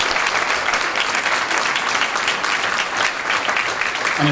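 An indoor crowd at a campaign meet-and-greet applauds, a dense, even patter of many hands clapping at full strength throughout.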